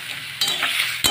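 A spatula stirs mustard paste into a vegetable chorchori cooking in a pan, making two brief scraping strokes over a light sizzle, close by, with no speech.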